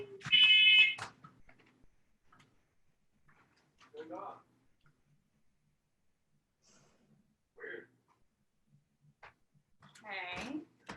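A home fire alarm goes off with short, sharp electronic beeps, one at the start and another near the end, and faint breathing and soft indoor sounds between them.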